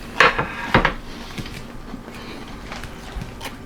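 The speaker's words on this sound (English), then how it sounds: "I'm going to take a bite of it" Two sharp, crisp crunches come close to the mic as someone bites into buttery, crunchy air-fried food with sharp cheddar cheese from a COSORI smart air fryer, followed by quieter chewing.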